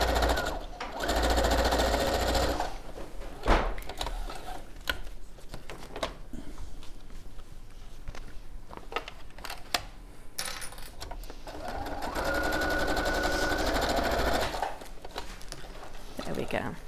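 A sewing machine stitches a Carpenter's Star quilt, running in loud rapid bursts with pauses and a reverse stitch, its whirring chatter close up while people talk between and over the runs.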